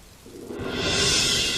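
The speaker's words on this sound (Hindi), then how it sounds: "बारिश में भीगते हुए" Rain that builds from a faint patter into a steady, loud hiss of downpour, with a low rumble underneath, as in a stormy night scene in an animated story.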